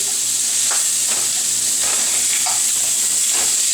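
Pork chops browning in a hot pan give off a loud, constant sizzle, a dense hiss with occasional soft spatters and stirring touches, close up and uninterrupted.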